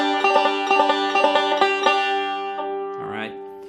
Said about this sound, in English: It's a forward roll, but it's more like a galloping type sound.